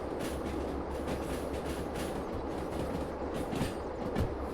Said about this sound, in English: AI train incoming.